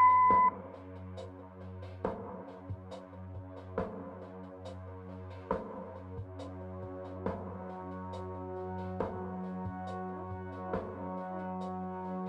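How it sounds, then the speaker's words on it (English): A single short answering-machine tone in the adventure game Kathy Rain, sounding once at the start, followed by quiet low hum with soft periodic clicks and thuds. "Leave a message after the beep."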